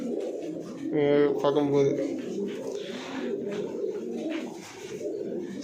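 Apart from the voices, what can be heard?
pigeons in a loft cooing and flapping wings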